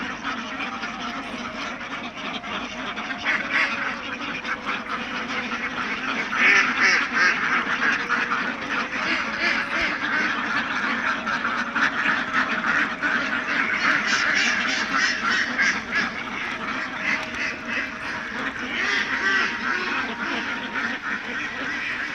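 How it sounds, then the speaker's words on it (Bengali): A large flock of Khaki Campbell ducks on a farm quacks continuously at feeding time, a dense overlapping chorus of nasal calls close by, with faint talk beneath. "আমি এখন আমার হাঁসগুলোকে খাবার দেবো"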